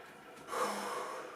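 A single deep breath is taken during a guided relaxation session, a soft close inhale that swells into a longer airy exhale, quiet and alone.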